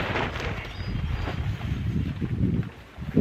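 Steady wind roars and buffets the microphone outdoors while an inflatable chair is filled, a loud continuous rush with no voices.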